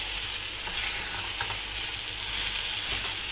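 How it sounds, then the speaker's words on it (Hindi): Fried soya chunks sizzle in a pan as they are stirred into a chilli sauce, making a steady, close hiss with soft scraping and bubbling throughout. "अब हम इसमें अपना फ्राई किया हुआ सोया चंक्स डालेंगे"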